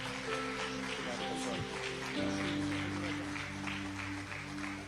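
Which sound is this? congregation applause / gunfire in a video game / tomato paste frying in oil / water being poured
congregation applause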